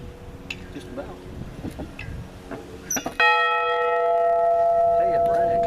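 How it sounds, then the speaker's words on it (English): A bell at Pioneer Settlement in Barberville, Florida strikes once loudly after some background talk and footsteps, its bright metallic tone ringing on and slowly fading as a long sustained hum. "I want to see if the bell's going to ring."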